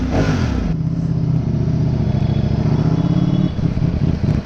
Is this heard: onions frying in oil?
no